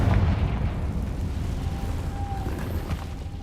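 In Hogwarts Legacy on hard mode, a Confringo fire spell detonates as a deep rumbling blast at the start, then a long, fairly loud roar that fades gradually with a faint whine, no voices.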